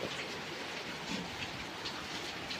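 Heavy rain pours steadily in a dense, hissing wash on the slopes of Mount Lawu, drumming on surfaces nearby, with no voices.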